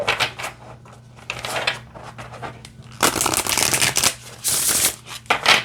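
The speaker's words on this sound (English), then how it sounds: "All right, let's go ahead and shuffle." Tarot cards are shuffled repeatedly, a crisp riffling and flapping that grows louder and busier midway, close up with no voices.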